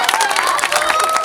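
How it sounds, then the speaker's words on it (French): A crowd at a commemoration of the 18 June 1940 Appeal in Nilvange applauds children. The clapping is dense and loud, with cheering mixed in and a whistle-like tone carrying over it, across a short burst. "On peut les applaudir."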